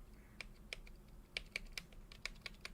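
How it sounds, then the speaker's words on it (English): Key presses on a custom-built mechanical keyboard, about a dozen crisp clicky strikes in an uneven typing rhythm, close and fairly quiet, with no talk. "it's a satisfying button press, especially the spacebar"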